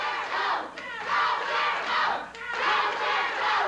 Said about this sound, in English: Some are yelling, go, Bill, go. Some are yelling, go, Jerry, go.